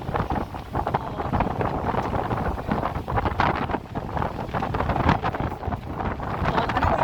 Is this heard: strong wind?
yes